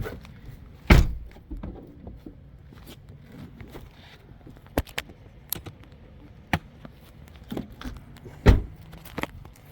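Car doors thunk shut as people climb out, a few heavy slams spaced several seconds apart amid small rustles, clicks and key jingles, near and fairly loud, with no speech.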